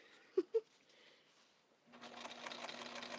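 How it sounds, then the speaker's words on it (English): A sewing machine runs steadily while stitching blue coattails, a continuous whirring hum starting about two seconds in after a couple of sharp clicks and a quiet lead-in. "We're sewing!"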